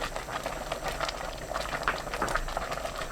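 Doenjang soup with lettuce bubbling in a pot, a steady close simmer of dense popping and gurgling bubbles throughout with no voices.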